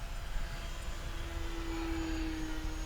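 Apprentice S 15e electric RC model plane flying at full power down a runway with a slight tailwind, a steady high motor whine holding a sustained tone over broad wind rumble.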